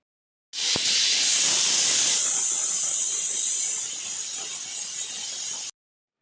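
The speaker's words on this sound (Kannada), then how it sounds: "ಕುಕ್ಕರ್ ಲಿಡ್ ಕ್ಲೋಸ್ ಮಾಡಿ ಒಂದೇ ಒಂದು ವಿಷಲ್ ಕೂಗಿಸ್ಕೊತಾ ಇದ್ದೀನಿ" A pressure cooker whistle releases a loud, continuous hiss of steam for about five seconds, opening with a sharp click while a pot of chickpea curry cooks; it eases slightly toward the end before cutting off.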